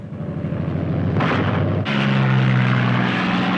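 Piston engines of P-47 Thunderbolt fighter aircraft at a 1944 wartime airfield give a loud, steady propeller roar, with a sharp surge in power partway through that settles into a sustained throbbing drone.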